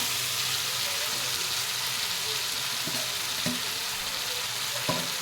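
Drumsticks and potatoes being stir-fried in a thick spice masala with melted tomato, a dense continuous sizzle with a few sharp spatula knocks against the pan, close and loud.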